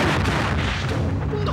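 Explosions in a Chinese martial arts drama set off a dense, continuous roar of booming blasts and crackling bursts, loud and close, with no clear gaps.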